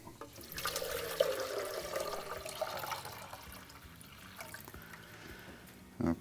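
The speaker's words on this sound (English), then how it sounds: "we're going to fill it to that calc clean line" Tap water runs into the removable water tank of a Gaggia Velasca Prestige espresso machine, a steady close splashing and filling that rises through most of the stretch, easing toward the end, with a brief knock near the close.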